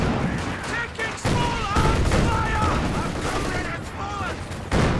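Several gunshots ring out amid a noisy real-time strategy battle in GCS2, with a sniper firing among clattering combat sounds, fairly loud and busy throughout.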